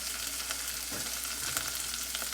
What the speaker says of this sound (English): We're going to saute the celery and the carrots.